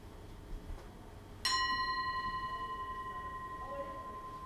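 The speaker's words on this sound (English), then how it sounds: "we're going to use this singing bowl, Tibetan singing bowl actually, as part of the process" A Tibetan singing bowl is struck once and rings on with a bright, steady tone that slowly decays and gently wavers, sounding alone and fairly close.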